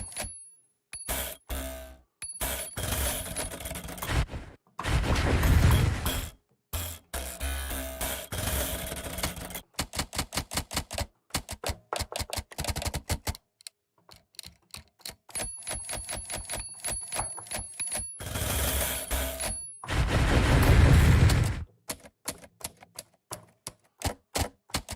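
Percussive sampled sounds from the King Key iOS app triggered from an Arturia MIDI keyboard, mostly rapid typewriter-like clicks and taps in bursts with a couple of louder, fuller hits and gaps of silence between phrases.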